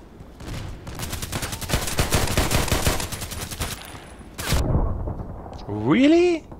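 Rapid bursts of pistol gunfire in a sniper video game, loud and close, with dense repeated shots for several seconds, then a sharp blast and a rising game tone near the end.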